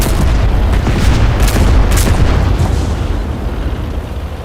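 Artillery shells exploding in World of Tanks gameplay, loud heavy booms rolling into one another with deep rumbling low end, sustained and close, without any talking.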